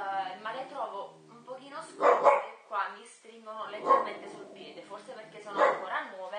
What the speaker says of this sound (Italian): scusate il cane che abbaia